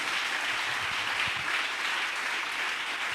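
A church congregation applauds to acclaim Jesus during a French-language sermon, a steady dense wash of clapping from many hands, sustained and even for several seconds with no talk over it.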